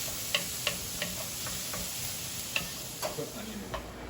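Onions frying in olive oil in a pan give a faint, steady sizzle, with scattered light clicks and taps from stirring throughout.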